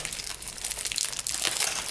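A heavily taped, cotton-wrapped package of rare plants is torn open by hand, with close, loud crinkling, crunching and tearing in quick irregular bursts, and no talking.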